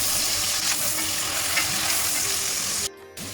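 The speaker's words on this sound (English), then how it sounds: "And fry it for 1 minute so that the smell of the mutton goes away." Ginger garlic paste frying with mutton in a pan, a loud, dense sizzle and crackle running steadily, cut by a brief drop to near silence just before the end.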